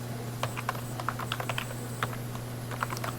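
Quick, light clicks from typing on a computer keyboard come in short irregular bursts over a steady low hum.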